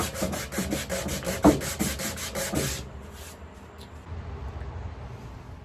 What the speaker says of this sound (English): Now I'm onto the final stage of using a 600 grit sandpaper so that the timber is as smooth as I can possibly get